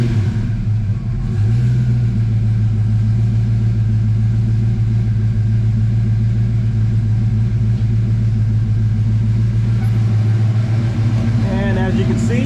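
Ford Foxbody Mustang engine in a garage, starting after a crank-no-start fault and settling into a loud, steady low idle rumble that runs close and unbroken for the rest of the stretch.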